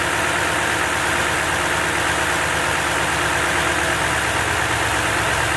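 Truck engine idling steadily during an alternator charging test, a constant close mid-to-low drone with even vibration and no talk over it.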